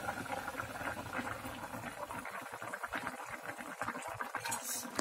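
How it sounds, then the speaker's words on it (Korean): Potato jjaguli with pork belly bubbling under a lid in a covered pot, a steady close simmer of popping bubbles and liquid patter with no voices. "뚜껑을 덮어 감자가 익을 때까지 끓여줍니다."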